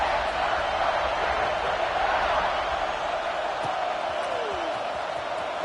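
Steady roar of a large stadium crowd before a football kickoff in a video game, with a broad, continuous wash of cheering throughout and a commentary voice talking over it.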